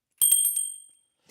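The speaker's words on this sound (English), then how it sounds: "a bell clears energy. This is my bell." A small hand bell rings three or four quick bright strikes close by, then a clear metallic tone fades out, alone without talk.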